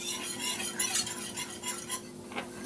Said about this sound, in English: And you just stir until you get the color that you desire.